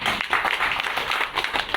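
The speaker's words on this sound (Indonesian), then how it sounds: "Tepuk tangan untuk kita." Audience applause at a Menparekraf ministerial visit to Kampung Kopi Pelita, Bondowoso, a short burst of scattered, moderately loud clapping from a modest crowd.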